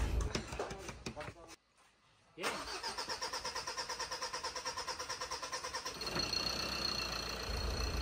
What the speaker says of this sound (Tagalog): umandar na yung engine